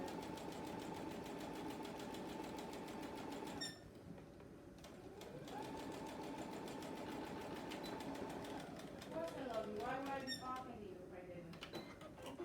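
A sewing machine stitches a quilt square, a steady close motor whir with rapid needle ticking that stops briefly and restarts, ending in some squeaky handling noises.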